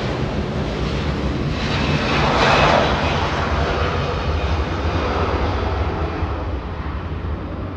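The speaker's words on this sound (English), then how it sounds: "Delta 777 flying in" Delta Boeing 777 jet airliner flying in to land at Los Angeles International Airport, a loud, steady, broad engine roar that swells slightly as it passes and then holds.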